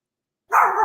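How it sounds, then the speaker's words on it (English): A dog gives one sharp, loud bark at close range after half a second of silence, and the clip ends right after it. "Dogs are barking."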